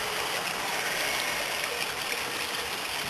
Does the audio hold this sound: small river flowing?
yes